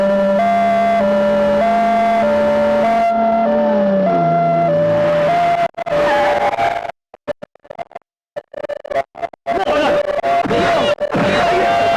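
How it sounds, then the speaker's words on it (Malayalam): An ambulance siren wails in a steady alternating two-tone pattern for several seconds, then breaks up into choppy, cut-off fragments. "ആംബുലൻസ്."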